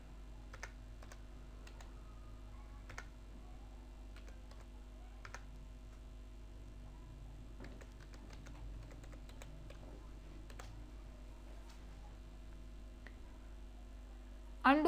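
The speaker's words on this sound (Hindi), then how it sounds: "यहाँ पर मैं कुछ टाइप करती हूँ।" Quiet typing on a computer keyboard while text is entered into Microsoft Word, with irregular light key clicks in short runs over a steady low hum, recorded close.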